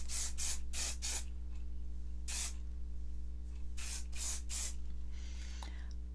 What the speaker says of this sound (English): I don't spray a lot in my hair